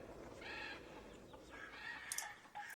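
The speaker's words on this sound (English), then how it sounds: "What is that? Some kind of, like, desert bird or something?" Bird calls in a video game, a desert-type bird giving a few short clucking, crowing bursts over quiet ambience, with no speech.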